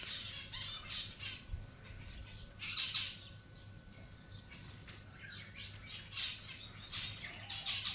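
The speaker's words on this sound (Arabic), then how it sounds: "هذني الطيور الحلوة" Birds floating on water squawk and chirp in repeated short bursts, with wings flapping now and then. The calls are fairly faint against a quiet background and no one speaks.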